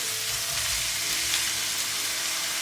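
Rice stir-fried in a hot wok with cured pork and Chinese sausage, a loud dense sizzle with scraping stir noises throughout, close and continuous, no voices.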